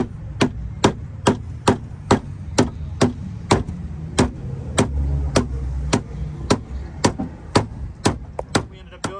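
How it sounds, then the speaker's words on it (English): A mallet taps battery terminals into place on a 1999 Jeep Wrangler TJ, giving a steady series of sharp, evenly spaced strikes, close and fairly loud, with about twenty blows and no talking. "we had beat the terminals with the mallet"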